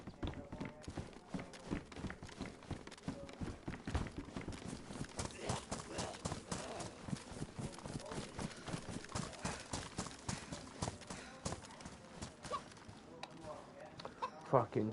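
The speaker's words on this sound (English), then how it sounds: "Fucking chicken scared the crap out of me." Chicken clucking in the survival game DayZ, quick repeated clucks mixed with rhythmic hoof-like clip-clop footsteps that run steadily for the whole stretch at a fairly quiet level, with no talk over them.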